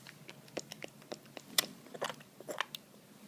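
Small mouth pops from a baby, a quick irregular series of sharp wet clicks and smacks, close and fairly quiet, with no talking over them.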